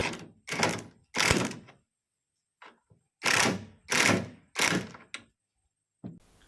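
A TEH LID230 cordless impact driver loosening a tight nut, heard up close as about seven short, loud rattling bursts separated by brief pauses.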